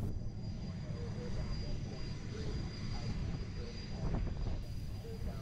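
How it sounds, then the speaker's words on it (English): A Navy jet approaches an aircraft carrier for landing during student carrier-landing training, a steady, loud broadband engine roar filling the whole stretch, with voices talking over it. "Looks like the jet's rolling through the 45, getting ready for the wings level transition."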